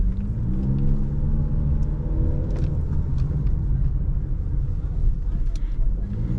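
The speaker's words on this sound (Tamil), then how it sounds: "அந்த ஆர்பிஎம் வந்து ரெவ் ஆகுது, பட் அதுவுமே ஸ்மூத்தாக இருக்குது." A 2024 Honda Amaze with a CVT, driven on the road with its engine revving, gives a steady low rumble that rises smoothly in pitch from inside the cabin, with someone talking over it.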